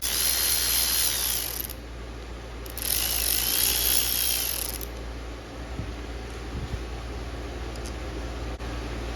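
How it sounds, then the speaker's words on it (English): A ratchet backing out two 8 mm bolts on a Mariner/Mercury outboard carburetor, with rapid pawl clicking in two bursts close to the mic, followed by quieter handling noises. "I'm gonna go ahead and remove these two 8mm bolts here, pull this piece off"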